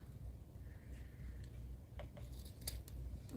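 Scissors snip through craft material during a Valentine's and Easter crafting session, a few short crisp cuts clustered near the end over a steady low background hum, with no talking.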